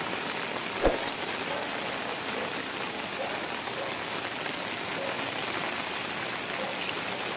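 Steady monsoon-season rain pours down in a dense, even hiss, with one brief knock early on and no voices.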